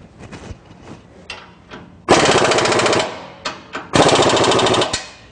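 A power tool tightens fasteners on a Dynomax performance exhaust system for a 1997-2004 Ford F150, hammering in two long, loud rattling bursts, with short blips and clanks between and after.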